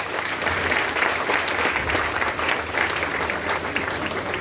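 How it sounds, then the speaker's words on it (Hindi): An audience at an RCM business seminar in Jehanabad, Bihar, claps loudly and continuously, a dense sustained round of applause filling the hall without a break. "ताली बजा लीजिए।"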